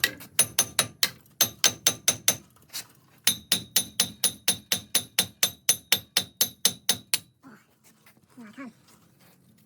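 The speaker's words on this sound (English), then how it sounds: "you want to hammer on this, and this whole hub assembly is going to pop out." A hammer pounds on a Ford F truck hub assembly during ball joint replacement, two runs of rapid, evenly spaced loud metallic blows, about twenty in all, then near silence with a faint voice at the end.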